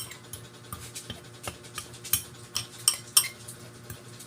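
Homemade vitamin mixture for chickens being stirred in a container, with rhythmic clinks and scrapes of a spoon against the sides repeating about twice a second, close and fairly loud.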